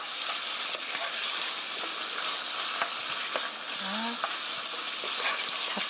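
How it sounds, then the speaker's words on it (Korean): Chicken stir-fries over medium heat for curry, giving a dense, steady sizzle up close, with occasional light clicks and scrapes of stirring and a brief faint squeak midway. "고기가 하얗게 될 때까지 볶아주세요. 불은 중불입니다."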